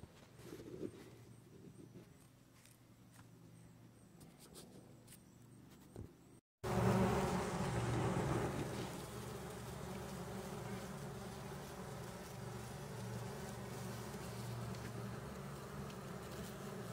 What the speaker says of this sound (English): I don't want to disturb it too much because there's still a lot of bumblebees on it